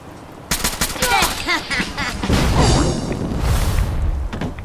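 Automatic gunfire from enemies shooting at the player in Fallout 4's Far Harbor, dense rapid bursts starting abruptly and continuing loud through the rest, with impact crackle and a brief voice-like sound.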